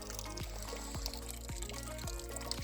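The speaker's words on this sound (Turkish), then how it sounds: "kaynaktan çıkan su çeşme. Burada da bir tane var. Bu bayağı debili akıyor." Spring water gushing strongly from a fountain spout at a natural spring site in Gölcük, Kocaeli, a steady close pouring splash with a faint, regularly repeating low thump underneath, no voices.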